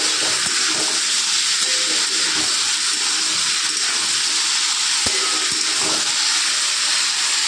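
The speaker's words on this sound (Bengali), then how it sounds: "এবার ভালো করে নাড়াচাড়া করে নেবো" Cauliflower is stirred with ground spices in a pan over a high gas flame. A loud, steady frying hiss fills the clip, with a few sharp scrapes and knocks.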